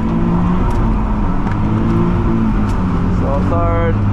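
A drift car's engine drones loudly in third gear on a wet track, steady and close, with the pitch climbing sharply near the end as it accelerates.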